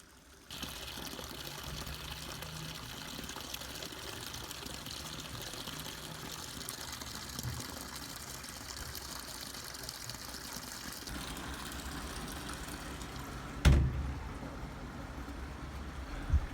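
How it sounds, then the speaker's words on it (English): Hot water poured from a kettle into a washing machine tub, a steady splashing pour lasting about eleven seconds before stopping, followed by a brief clunk and quieter background. "have been preparing a kettle of hot water to pour into the washing machine and increase the temperature of the entire tub"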